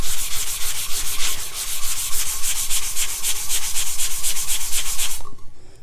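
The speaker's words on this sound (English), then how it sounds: "I do this all the way around on every single spot in circular motions" A tumbler cup is hand sanded in circular motions, a close, loud, rhythmic rubbing scratch repeating roughly every third of a second, then stopping abruptly near the end.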